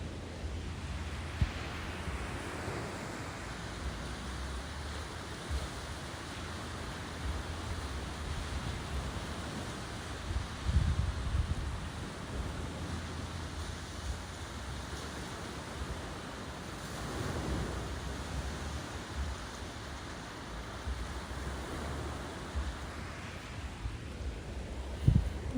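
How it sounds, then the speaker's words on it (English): Ocean surf rolling in on the Mexican coast at night, a steady broadband wash with gentle swells and low wind rumble, continuous and moderately distant, no voices. "here's some more ocean recording sound"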